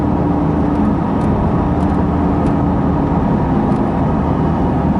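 A 2020 Chevrolet Corvette C8 Stingray Z51 V8 driving in sport mode gives a steady, full engine drone with road rumble, heard from inside the cabin and holding at a constant level throughout.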